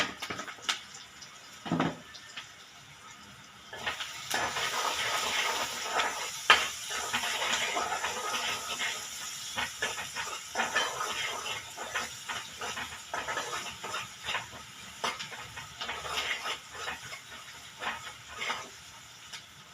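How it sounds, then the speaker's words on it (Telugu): Onions sizzle and hiss in a pan while frying for a chicken curry: a steady, fairly soft crackle with small pops and occasional stirring. "ఉల్లిపాయలు బాగా ఫ్రై అయినాయి"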